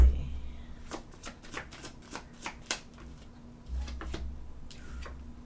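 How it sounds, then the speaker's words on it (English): Tarot cards being shuffled and cut, a run of quick crisp riffling snaps and flicks in an irregular rhythm, fairly close and alone, with a low steady hum underneath. "Cut in the deck for Yazzie."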